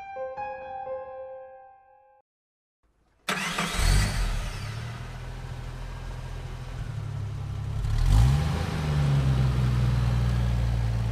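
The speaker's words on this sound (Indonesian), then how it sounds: "Saat masuk mobil, Zainal langsung starter dan cabut secepat-cepatnya." A car engine cranks and catches after a short silence, then settles into a steady, fairly loud running rumble with a brief rev swell near the end, with no talk over it.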